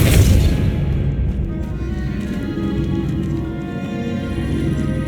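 A Depulso spell cast in Hogwarts Legacy lands as a loud, deep whooshing boom at the start, then a rumbling low roar that lingers at steady loudness to the end.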